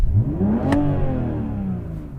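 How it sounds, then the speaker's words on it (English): A BMW car engine revs up sharply and then winds down, a loud, close single blip of rising and falling pitch. "So I'm going to rev up this car."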